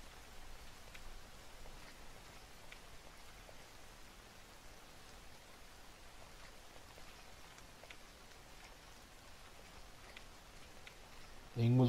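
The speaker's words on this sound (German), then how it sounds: "Aber cool, es regnet gerade," Rain in a forest in The Forest video game on PS4, a faint, steady patter with scattered drop ticks throughout, ending in a brief louder burst of another sound.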